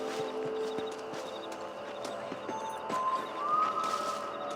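Horse hooves clip-clopping at night in Red Dead Redemption, a steady rhythmic clatter of hoofbeats under ambient music and faint birdlike whistles, moderately close.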